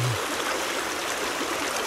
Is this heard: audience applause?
no